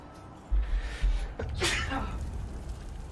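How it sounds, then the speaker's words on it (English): A single loud human sneeze bursts out near the mic, preceded by a sharp intake of breath, then fades into breathy noise during a Last Epoch gameplay session. "Oh, I gotta sneeze."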